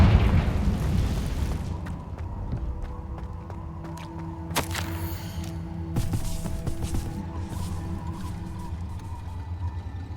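A Confringo blasting spell in Hogwarts Legacy lets off an explosive crack with a booming burst, followed by a second blast and lingering rumble against a steady droning game backdrop.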